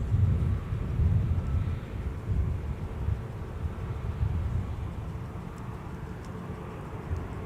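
A large airliner gets underway at Minneapolis–St. Paul Airport, producing a deep, steady rumble at moderate distance that slowly eases off. There are faint outdoor sounds, including a bird, and no talking.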